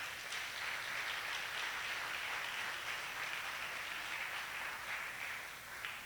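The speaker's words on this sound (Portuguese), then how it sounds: "dê uma linda salva de palmas pela vida dessa mulher" A church congregation at an intercessory prayer service breaks into sustained applause, an even wash of many hands clapping, heard at moderate distance and fairly quiet.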